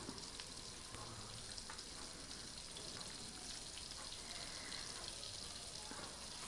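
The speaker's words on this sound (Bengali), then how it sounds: "হলুদ গুঁড়ো আর লবণটা দিয়ে একদম লো ফ্লেমে নাড়াচাড়া করতে করতে আলুগুলোকে কিন্তু লাল করে ভেজে তুলে নেব।" Potatoes sizzle steadily in a pan over low flame with salt and turmeric, a soft, even hiss of frying close by and fairly quiet, with no talk over it.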